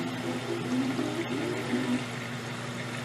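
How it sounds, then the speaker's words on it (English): Water runs steadily from a tap through a water balloon filler, a continuous close pouring and trickling stream with no break. "the water's going to start flowing"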